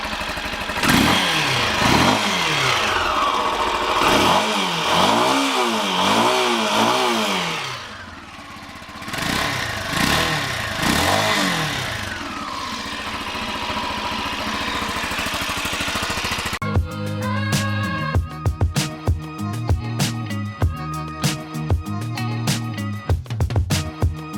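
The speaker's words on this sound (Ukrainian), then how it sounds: "Давайте зараз зараз послухаємо роботу цього двигуна." A Shineray X-Trail 200 motorcycle engine running close by, revving up and down in repeated swells, then settling into a fast, rhythmic idle with a clattering beat.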